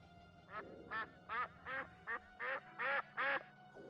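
Duck quacking in the factory-building game Factorio, eight evenly spaced nasal quacks in a steady rhythm over a faint background hum, clear and alone.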